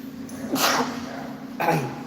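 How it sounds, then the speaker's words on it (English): A man sneezes twice during a talk, two sharp bursts about a second apart, each with a short breathy onset, close and fairly loud. "I may sneeze here."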